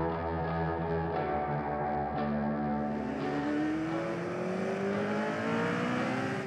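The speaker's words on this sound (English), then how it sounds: "I get the chance to drive James Hunt's car that won the Zandvoort Dutch Grand Prix" James Hunt's Hesketh racing car screams around the Zandvoort circuit, a loud harmonic engine note that climbs steadily in pitch as the car accelerates, heard from on board.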